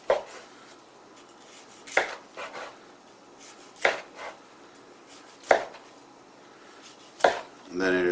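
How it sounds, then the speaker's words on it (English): A knife slices through cooked turkey breast, each cut ending in a distinct thud on the board, about five evenly spaced strokes up close with quiet scraping between them. "I'm going to slice the breast"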